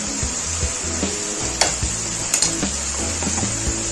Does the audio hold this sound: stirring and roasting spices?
yes